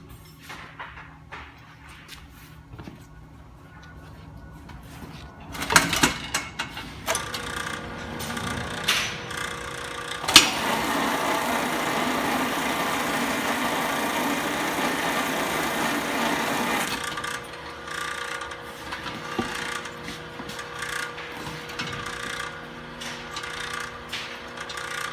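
A PSR1-1 sidewall remover machine working on an LT tire, giving a steady loud grinding, rubbing whir that builds in bursts and holds for several seconds before dropping back to a lower mechanical hum.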